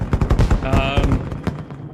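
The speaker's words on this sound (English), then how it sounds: "Those were the fireworks." Fireworks go off in Fallout New Vegas at the Sierra Madre gala, a rapid two-second burst of sharp cracks and pops like gunfire, with a voice talking faintly underneath.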